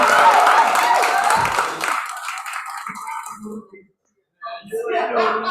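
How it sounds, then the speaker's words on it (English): Loud applause and clapping from an audience at a hybrid open mic poetry event. It is strongest at first, then thins and fades out, and a voice and other sounds follow after a brief gap. "Ladies and gentlemen, put your hands together"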